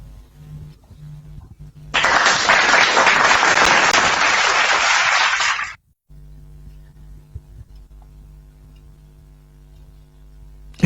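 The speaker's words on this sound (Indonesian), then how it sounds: "Tepuk tangan." Audience applause during a heated Indonesian debate on religion, a sudden loud block of clapping lasting about four seconds that cuts off sharply, with quiet room noise before and after.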